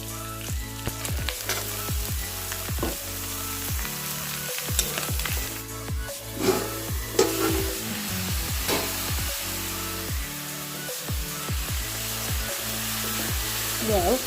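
Farshi (pumpkin) and chicken fry in a pan with a steady, loud sizzle, broken by repeated scraping stirs throughout.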